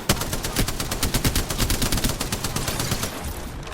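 Sustained automatic gunfire from a video game firefight, a steady rapid stream of loud shots rattling without a break across the whole clip.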